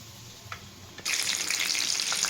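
A tamarind-stuffed green chilli bajji, street style, drops into hot oil: near silence, then an abrupt loud hissing sizzle that bursts up and holds steady with small crackles.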